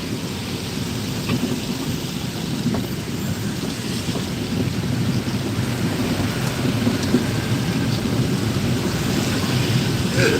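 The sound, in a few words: heavy rain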